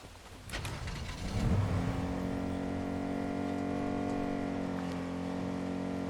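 A truck in the video game Fortnite drives off, its engine climbing into a steady, droning rev that holds loud and close over a bed of music.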